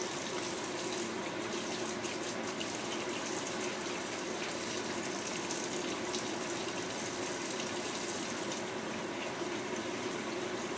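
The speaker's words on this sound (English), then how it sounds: "so I want to wash my hands" Water runs steadily from an outdoor tap for hand washing, a continuous broadband rushing hiss held at an even level for about eleven seconds with no talk.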